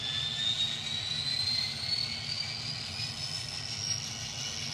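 A ScaleTrains model SD70 locomotive, number 4141, plays loud diesel sound through its onboard sound system: a steady, dense engine rumble with a slowly rising turbo-like whine, continuous and close.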